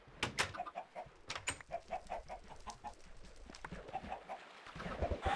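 Minecraft chicken farm in a video game, with repeated short clucks from several chickens, fairly faint, with no talking.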